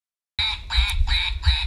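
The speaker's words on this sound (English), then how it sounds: "our wonderful little friend the Duck says hello to Dean Armstrong." Cartoon duck quack sound effect played as a station jingle on a Geelong cricket radio show, several loud rhythmic quacks in quick succession, with no talk over them.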